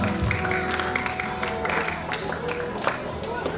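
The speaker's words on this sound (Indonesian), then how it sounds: "berikan tepuk tangan dulu buat para kita" A church congregation applauding during a sermon, scattered clapping mixed with voices and chatter, moderately loud and continuous throughout.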